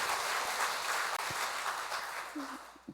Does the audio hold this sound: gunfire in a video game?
no